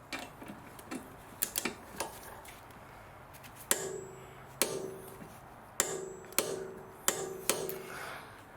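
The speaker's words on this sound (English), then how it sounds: "So I'm just going to torque this up as well." Torque wrench clicking on a suspension arm bolt of a 2011 Audi A4 Avant, a series of sharp metallic ticks and clanks spaced about a second apart, close and fairly clear.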